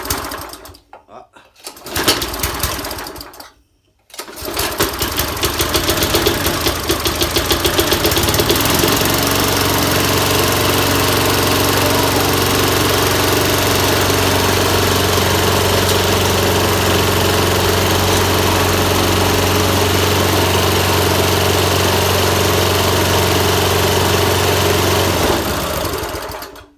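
Tecumseh BVS 143 small engine, freshly reassembled with carburettor and air filter refitted, starts after a couple of brief pulls and then runs at a loud, steady drone close by for over twenty seconds without letting up.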